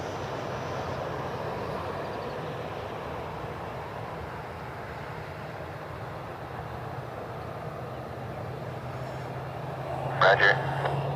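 A Frontier airliner rumbles at a distance as it departs Cleveland Hopkins airport, its engine roar a steady low drone that holds for the whole stretch, with a brief clatter of nearby noise near the end.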